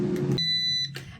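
An air fryer cooking butternut squash cubes gives a single clear electronic beep at the end of its cooking time, sharp and close, with faint kitchen sounds around it.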